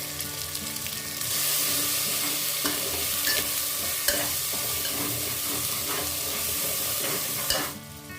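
Prawn biryani spices with salt, chilli powder and Kashmiri chilli powder frying in a pan, a dense, loud, continuous hiss of sizzling with occasional stirring scrapes and clicks, close by.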